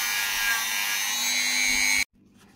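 A small handheld tool buffs a handmade silver art clay bezel for a resin piece, giving a close, steady high whine with a faint grinding edge for about two seconds before stopping abruptly.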